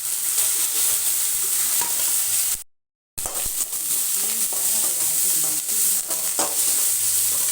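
Curry leaves and onion fry in a hot pan for a home-cooked lunchbox dish, a loud steady sizzle with stirring scrapes that cuts out briefly near the three-second mark before resuming.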